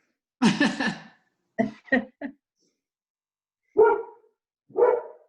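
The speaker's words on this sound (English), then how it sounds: "And that is my dog, if you can hear him." A dog barks in bursts, first a loud cluster, then three short quick barks, and later two more separate barks, fairly close with silence between them.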